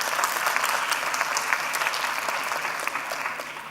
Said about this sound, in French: Ainsi que l'ensemble des candidats qui méritent encore une belle salve d'applaudissements.